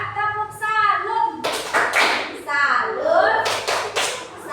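In a classroom, students chant a rhythmic clapping cheer for a group: children's voices call out together, broken by a few loud bursts of synchronized claps in short rhythmic groups.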